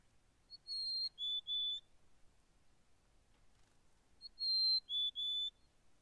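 Mountain chickadee song near Big Bear Lake on Mill Creek Road in spring: two clear whistled phrases, each a high note followed by two lower sustained notes, repeated once after a pause over quiet background.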